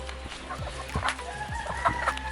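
Meat chickens on a homestead clucking close by, with a few short, overlapping clucks and squawks over a low background hum, no talking.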